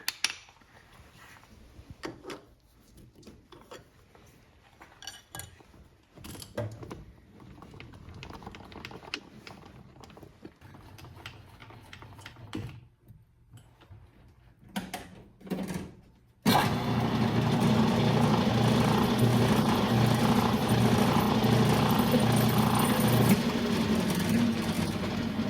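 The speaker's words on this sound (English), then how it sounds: "So I guess I'll have to start with chamfering that off." Chamfering a metal banjo tension hook part, with short irregular tool cuts and clicks at first, then a steady loud machine whir from a running lathe or similar machine in a workshop.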